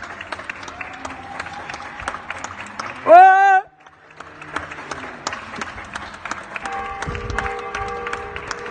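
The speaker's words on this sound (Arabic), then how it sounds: "كله لازم يسقف، كله لازم يسقف عشان الأزمة تعدي يا جدعان." Crowd applause and cheering from neighbours at a nightly 8 o'clock show of support for the health ministry during the coronavirus crisis, a steady distant clatter of clapping with a loud whistle-like tone briefly rising above it and voices mixed in.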